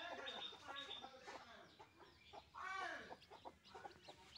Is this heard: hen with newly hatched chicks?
yes